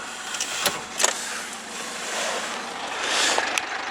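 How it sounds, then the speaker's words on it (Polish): A Peugeot 1007 1.4 HDi diesel engine runs at idle, a soft steady hum heard from nearby with hissy airy swells and a few sharp clicks on top, no voices. "Teraz sobie fajnie silniczek pracuje."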